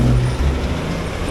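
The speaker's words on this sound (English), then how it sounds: "We've got the big truck going past" A big truck rolls past on a road, giving a loud, close, heavy rumble with deep engine drone that fills the whole moment.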